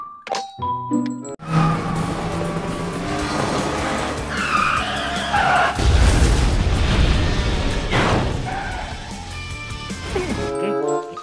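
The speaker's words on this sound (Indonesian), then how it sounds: "Wah, mobil balap lagi teman-teman." A toy race car runs with tire-squeal and skidding whines, loud and near and continuous, rising to a heavier rush midway, with a few faint tones at the start.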